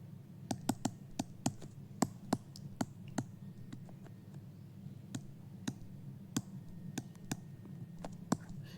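Keys clacking on a computer keyboard in short irregular bursts of close, crisp taps over a low steady hum, with no one speaking.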